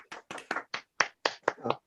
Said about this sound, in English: Let's everybody round of applause for Justin Del Rio